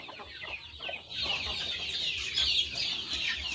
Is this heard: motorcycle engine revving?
no